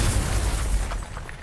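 A crystal is shot in God of War, giving a short, loud, low boom that bursts at once and then decays over about a second and a half.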